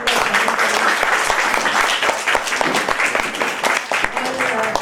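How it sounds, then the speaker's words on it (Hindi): Loud, sustained applause from a crowd at a charity event for cancer patients, steady clapping filling the whole stretch with a dense texture. "एक बार जोर से ताली बजा के"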